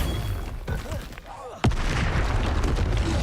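Casting the Expelliarmus spell in Hogwarts Legacy produces a sharp magical crack and burst, after which a dense, crackling rush of energy sustains loudly to the end.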